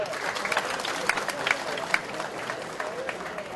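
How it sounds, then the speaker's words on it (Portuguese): A crowd claps steadily at a conference lecture, a fairly distant burst of applause that holds for a few seconds with a voice mixed in. "Uma salva de palmas."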